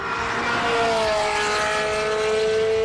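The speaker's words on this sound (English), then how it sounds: "This is one of my favorite car sounds of all time." A classic car's engine roars at a hill climb, a loud sustained high-revving tone with rising pitch, steady and continuous as it powers up the road.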